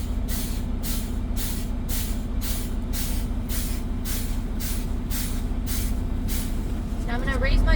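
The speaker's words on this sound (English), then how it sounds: "we're going to pump down our brake pedal below 100 psi, and we're going to watch our compressor kick in and start building air" A truck's air brake pedal is pumped down repeatedly, giving about a dozen sharp, evenly spaced bursts of air hiss over a steady engine idle, with a rising compressor note at the end.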